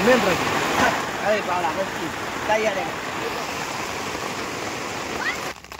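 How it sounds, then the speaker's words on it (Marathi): Steady rain falling outdoors in a continuous dense hiss close by, with a voice briefly audible under it near the start. "आता मित्रांनो पाऊस चालू आहे"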